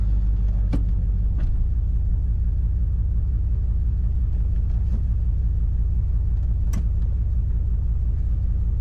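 A Dodge Ram truck engine idles steadily while its transmission warms up, a continuous low rumble with a few faint clicks and taps over it and no talking.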